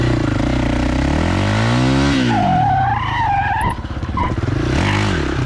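A quad bike skids into a turn using its front brake, tipping onto its side wheels: a loud, close engine roar with rising revs and a sustained tire skid, no talk.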